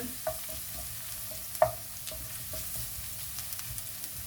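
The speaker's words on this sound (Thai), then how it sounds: "เราผัดกระเทียม อย่าให้ไหม้นะคะ" Garlic stir-fries in a pan, a quiet continuous sizzle broken by a few sharp scrapes and clinks of a utensil, one louder knock standing out near the middle.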